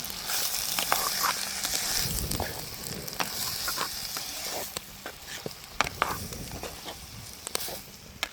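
Liver curry sizzling in a pan in a village kitchen while a spoon stirs it, with scraping strokes and soft clinks over a steady frying hiss, close.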